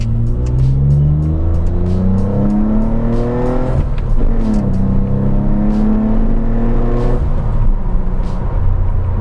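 A 2006 Mitsubishi with a new cheap cat-back exhaust revving hard and accelerating on a highway through rising gear pulls, a loud throaty exhaust note with brief dips between shifts.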